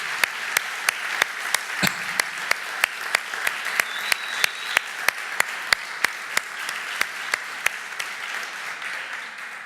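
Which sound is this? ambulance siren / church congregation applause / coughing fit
church congregation applause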